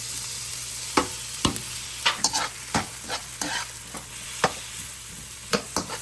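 Mixed vegetables for spring rolls are tossed and cooked in a pan: a low frying hiss under a series of sharp, irregular spatula scrapes and clacks, close and fairly loud.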